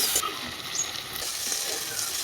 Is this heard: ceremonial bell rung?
no